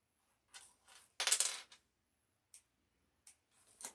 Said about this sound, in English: I'm going to trim down those threads.